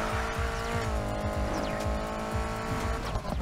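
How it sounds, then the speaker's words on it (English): A BMW in Need for Speed Heat slides through a handbrake turn, tires squealing in wavering skids over a steady, loud engine drone, with no talking. "let's hit the handbrake real quick"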